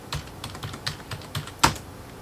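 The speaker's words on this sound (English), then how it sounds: "I type in my first personal name" Keystrokes on a computer keyboard during a software installation: about eight sparse, close taps in an uneven rhythm, with one sharper press near the end and no voices.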